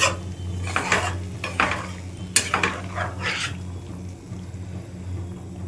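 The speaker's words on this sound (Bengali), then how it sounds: "আস্তে আস্তে পুরোটা চারদিক থেকে মিশিয়ে দেব" A spoon stirs and mixes food in a pot after hot water is added, with repeated scraping and clinking strokes against the metal over a soft bubbling sizzle. The sound is close and there is no speech.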